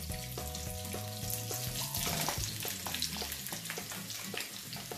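Boiled mashed potatoes with turmeric stirred in a pan over a low flame for Bombay-style masala toast filling, with a soft continuous fry and repeated spatula scrapes and taps, close by and without talk.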